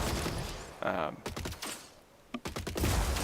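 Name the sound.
gunfire from robots in video game Gladiabots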